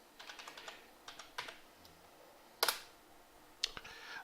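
Someone types on a computer keyboard into a web browser, producing quick bursts of light key clicks separated by short pauses and a couple of sharper, louder presses, close and clear in a quiet room.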